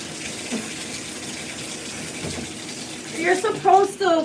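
Tap water runs steadily at moderate volume while a toothbrush is rinsed and washed with soap, and a voice starts talking over it near the end.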